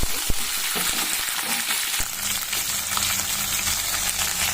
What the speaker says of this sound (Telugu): బీన్స్, అన్ని వెజిటేబుల్స్ వేసి బాగా వేయించుకోవాలి